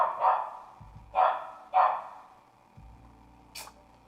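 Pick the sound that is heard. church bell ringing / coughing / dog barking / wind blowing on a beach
dog barking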